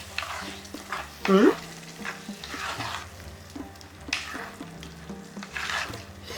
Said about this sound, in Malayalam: മഞ്ഞൾപ്പൊടി ഒഴിച്ചു കൊടുക്കാം ഇതും നന്നായിട്ട് വഴറ്റുക